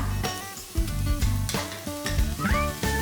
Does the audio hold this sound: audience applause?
no